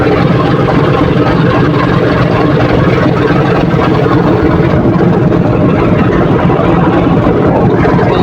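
Loud, steady drone of a passenger launch's engine cruising on the river near the Muktarpur bridge, a heavy low rumble that holds constant without pause and with no talk.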